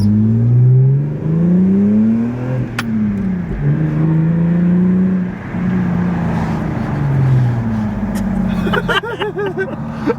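A lowered Lexus IS300 accelerates hard, its engine note rising in repeated sweeps through the gears, loud and close from inside the car, with a brief bit of talk near the end.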